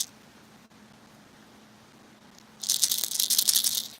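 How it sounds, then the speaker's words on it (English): Quiet hiss, then a loud, fast rattling of small beads inside a hollow lure shaken for about a second and a half, close and alone. "A rattle trap, you really can't go wrong with a rattle trap. It's that good sound."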